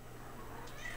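A big cat gives a short, soft meow in a quiet indoor room, faint and close.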